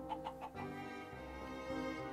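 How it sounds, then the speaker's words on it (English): Chicken clucking in the Minecraft video game: a few quick, close clucks in a short burst at the start, followed by a steady low game background hum. "chicken."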